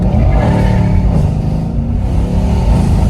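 A stage 2 tuned Mercedes C63 V8 revs hard and loud up close, a steady deep rasping engine roar filling the whole stretch with slight swells in pitch.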